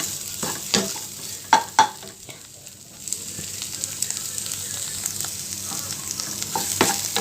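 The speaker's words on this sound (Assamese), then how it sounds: "বইল আলুখিনি মই ভাজি লৈছোঁ।" Boiled potatoes fry in a pan, a soft sizzle underlying several sharp scrapes and knocks of a spoon stirring them, close and moderately loud, with no talking.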